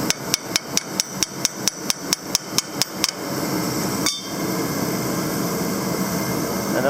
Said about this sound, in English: Might have to tap it with something like a hammer.